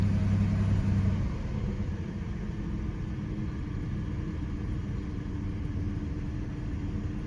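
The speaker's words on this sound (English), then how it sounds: "There, that's a pretty good idle." A car with a small 3.8-liter engine, the odometer reading just under 500,000 kilometers, idles steadily up close, giving a continuous low rumble that eases slightly after the first second and then holds even, with no voices.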